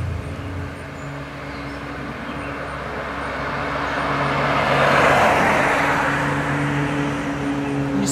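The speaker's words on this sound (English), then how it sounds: "there's a car coming from the left" A car approaches from the left along a road, a broad rumble of tyres and engine swelling to a peak mid-way and easing off, over steady low traffic hum with no talking.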